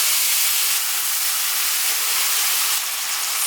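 Onions and sweet pepper hiss loudly in a hot pot used for Jamaican brown stew snapper, a dense, steady sizzle throughout with no talking.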